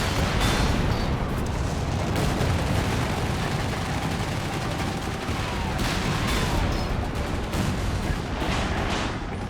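Rocket barrage from a walking Stuka halftrack in Company of Heroes 3, a dense, continuous roar of explosions and gunfire rumbling loudly throughout with sharper bursts scattered across, no talk over it.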